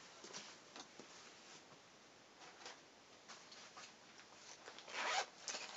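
A pencil pouch is unzipped in a series of short, quiet zipper rasps spread across the clip, with a louder, longer pull near the end, close to the microphone and with no talk.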